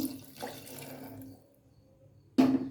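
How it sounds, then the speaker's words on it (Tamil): A second tumbler of water is poured into a pot of sautéed vegetables for sambar rice, a short gurgling splash that trails off, then a fresh burst of pouring near the end. "இப்போ 2வது டம்ளர் தண்ணி"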